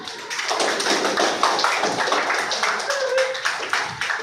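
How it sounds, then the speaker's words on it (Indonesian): Students in a school biology classroom clap for a classmate, a lively burst of many hands close by with sharp individual claps throughout. "tepuk tangan untuk Yuli"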